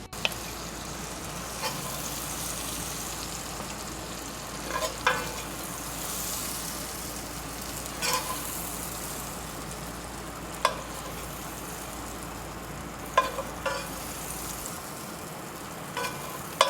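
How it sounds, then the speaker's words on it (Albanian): Garlic dropped into a hot pan that was used for shrimp, frying with a continuous soft sizzle and occasional sharp clicks and scrapes of a utensil stirring, close and moderately quiet with no talk. "Tigani është i nxehtë dhe tani unë po hedh hudrën që të skuqet vetëm pak"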